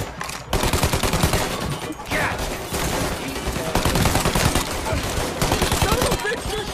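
Dense, sustained gunfire from a Mafia mission shootout, a near continuous barrage of rapid shots at close range filling the whole stretch, with a brief lull near the start.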